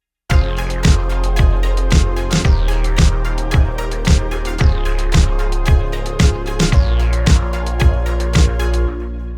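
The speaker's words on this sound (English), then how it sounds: "that is how I use Maschine 3 to create disco style beats" Disco beat programmed in Native Instruments Maschine 3: a steady four-on-the-floor kick with punchy hits and bright repeating synth stabs, loud and upfront, looping evenly with no voices.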